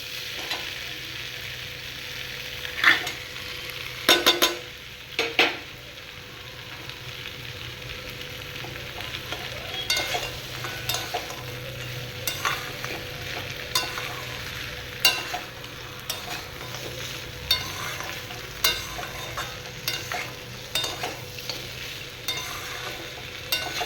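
Fried vegetables for Bengali shukto sizzle steadily in a pan while being stirred, with intermittent scraping bursts of the spatula over a continuous frying hiss, alone without talk.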